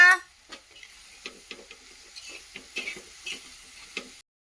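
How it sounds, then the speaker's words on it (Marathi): Umbar fruit vegetable being stir-fried with crushed peanuts in a pan, giving a soft sizzle with scattered stirring scrapes and clicks at close range, no talking. "आपण आता त्याला छान पैकी परतून घेऊया"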